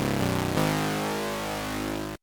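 Serum brass stab synth with modulated distortion, from a remix preset: a short gritty hit that jumps up and sustains as a bright, buzzing held chord, heard alone.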